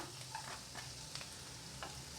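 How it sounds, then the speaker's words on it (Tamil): Quiet, steady sizzling of garlic sautéing in a pan with faint stirring scrapes, soft and continuous. "பூண்டு நல்லா வதக்கிக்கலாம்."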